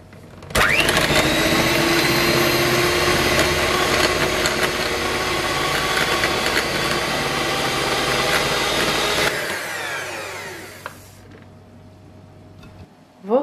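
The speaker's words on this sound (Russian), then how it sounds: "Смешаем с миксером." An electric hand mixer whips meringue cream with sugar, a loud, steady motor whir running for about nine seconds before it winds down and stops.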